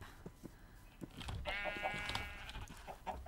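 A sheep bleats in a video game: one drawn-out, wavering bleat rises over faint background clicks and soft game noise, with no voices.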